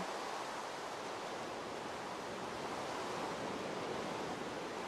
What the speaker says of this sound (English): Wow, it is just pouring outside.